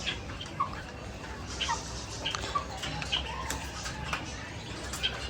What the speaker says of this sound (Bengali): মুরগগুলোকে খানা দেওয়ার সাথে সাথে ওরা খাইতেছে।